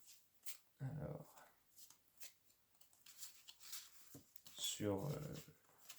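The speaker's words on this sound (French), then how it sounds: "j'ai envie de tirer quelques cartes" Tarot cards shuffled and drawn, heard as two short bursts of riffling and slapping card noise separated by quieter rustles, close and moderately loud.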